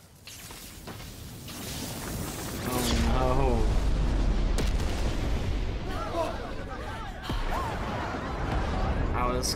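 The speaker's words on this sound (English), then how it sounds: "Quite the explosion." Heavy explosive rumble in the Spider-Man Miles Morales video game, a loud sustained boom with whooshing debris lasting several seconds, with voices breaking through the blast.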